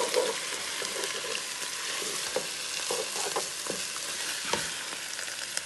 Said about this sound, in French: Allez, on va remuer.